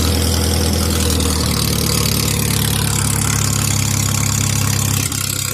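An old engine with the choke locked down runs loud and close at a rough, low idle, a steady rumbling drone that holds throughout before a brief dip near the end.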